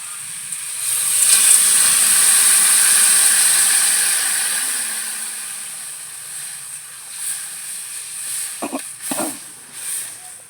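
Water poured into a pan of frying potato and eggplant bursts into a loud hissing sizzle that peaks early and slowly fades, followed by a few clattering knocks of a utensil.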